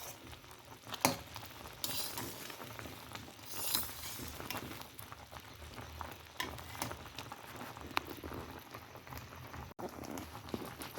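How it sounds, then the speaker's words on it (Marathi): Amla simmering in jaggery syrup and being stirred, a faint bubbling and gentle sizzling throughout with occasional soft clicks and scrapes of the spoon. "मध्ये मध्ये आपण त्याला ढवळत राहायचं आहे, जेणेकरून पाक खाली लागू नये."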